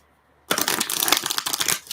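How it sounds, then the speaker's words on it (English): A thick, large deck of tarot cards is riffled after a short quiet moment, giving a loud, close burst of rapid flapping that stops briefly and then resumes. "having to figure out a way to shuffle these cards"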